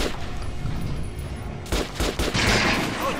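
Gunfire from weapons in the post-apocalyptic shooter Metro Last Light, loud rapid bursts of close shots, sparse at first and then a dense volley in the second half.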